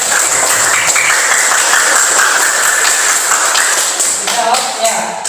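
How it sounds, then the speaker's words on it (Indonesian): A class of students applauding a discussion group, fairly loud continuous clapping from a roomful of people with voices mixed in. "Tepuk tangan kelompok C."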